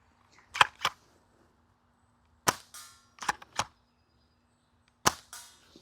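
A Silverback sniper BB gun fires at close range toward a scope target in sharp, isolated cracks, mostly in pairs, each followed by a brief impact rattle and quiet gaps between.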